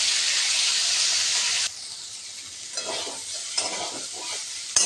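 Cauliflower florets, steamed beforehand, fry in a pan with salt and turmeric, giving a loud steady sizzle that drops abruptly to a quieter crackle with bursts of stirring and scraping.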